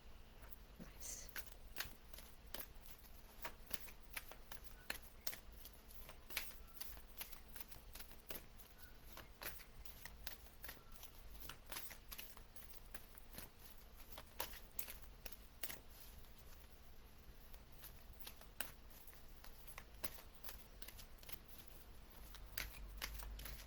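Oracle cards are shuffled by hand, a faint close riffle of repeated papery slaps and flicks in an uneven rhythm that runs steadily for over twenty seconds in a quiet room.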